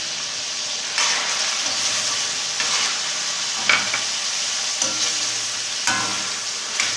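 Chicken frying in a karahi for Peshawari charsi chicken karahi, a loud, steady hiss of hot oil broken by several sharp stirring scrapes, close and without talking.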